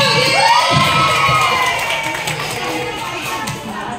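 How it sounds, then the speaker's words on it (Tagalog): A live audience at a family gathering breaks into loud cheering, shouting and clapping, with children's voices prominent, starting strong and slowly fading over a few seconds. "Palakpakan po!"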